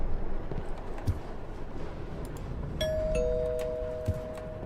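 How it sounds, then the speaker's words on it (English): Front doorbell in the video game Suffer The Night, a two-tone ding-dong chime ringing clearly over a low stormy rumble, with a couple of faint thuds around it. "That was the front doorbell"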